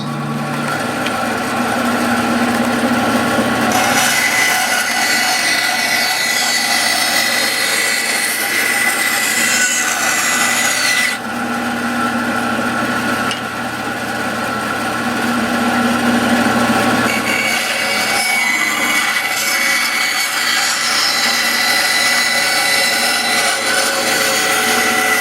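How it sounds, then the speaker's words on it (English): A bandsaw roars loudly and continuously while trimming a wooden spoon blank, its high whine dipping briefly between cuts, with no talking over it. "I'll trim some of this up off the bandsaw. It's going to be a little loud."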